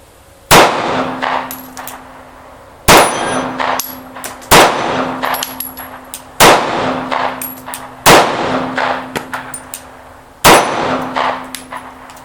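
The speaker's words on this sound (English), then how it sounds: "So let's do a little bit more shooting." Six loud, evenly spaced shots from a Sig P938 pistol, each followed by a ringing metallic clang of steel targets that decays before the next shot.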